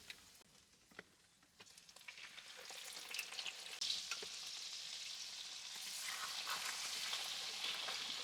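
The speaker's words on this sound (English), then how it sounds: "We want to infuse our oil with rosemary and garlic" Rosemary and garlic sizzling in hot oil in a pan: a soft, steady frying hiss that builds gradually from quiet to fuller, with a few light taps of a utensil early on and no voices.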